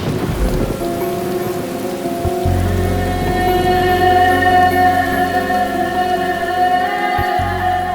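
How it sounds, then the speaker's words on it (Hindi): Heavy rain pours steadily in a forest, with a dense, loud hiss of rainfall and a low rumble of thunder, while sustained musical tones rise over it partway through. "एक तो बारिश भी बहुत ज्यादा है"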